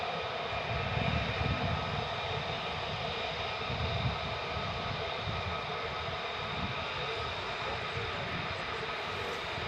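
Two F-15 fighter jets fly near RAF Lakenheath, producing a steady, sustained jet roar heard from a distance with no breaks, a broad rumbling wash of engine noise.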